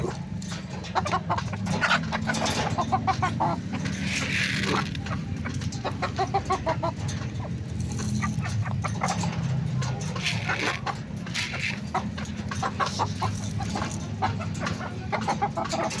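Chickens cluck busily and continuously up close, several birds overlapping, with a person talking quietly in the background now and then.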